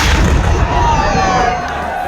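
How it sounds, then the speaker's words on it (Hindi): A cannon fires in a 21-gun salute at a Krishna Janmashtami celebration at a temple, a loud boom at the start rumbling away while a crowd murmurs in the background. "इसी तरह 21 तोपों की सलामी दी गई।"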